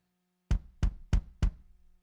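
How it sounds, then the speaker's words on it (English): Four punchy kick drum hits from a reggae kit in Addictive Drums 2, modern Ice Custom Blue sound, in a steady, evenly spaced pattern, deep and close, with short decays and nothing else around them. "I like that for the kick"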